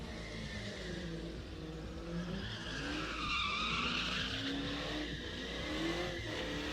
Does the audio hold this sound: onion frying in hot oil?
no